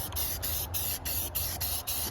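A spray can lays another coat of paint on engine bay parts of a 2JZ-swapped Lexus IS300, a close hissing spray pulsing in short bursts about every third of a second.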